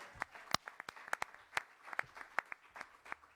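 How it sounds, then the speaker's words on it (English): Scattered clapping from a small group at a government press briefing, uneven and fairly faint, with individual claps standing out rather than a full roar. "Let's give them a strong round of applause."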